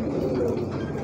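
Indian fantail pigeons coo in a low, steady murmur at a fancy pigeon farm in Gujarat, India, close by and fairly loud, filling the short moment without pause.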